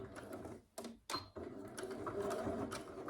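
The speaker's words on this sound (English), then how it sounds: "I'm gonna go ahead and back stitch" A home sewing machine back stitches near the edge of a garment pocket, its needle clattering in quick mechanical bursts that stop briefly twice before running steadily again, close and fairly quiet.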